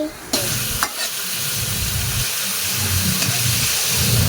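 Garlic, onion and liver frying in a pan, giving a loud continuous sizzle with a couple of sharp early utensil knocks and steady stirring noise throughout, close and without speech.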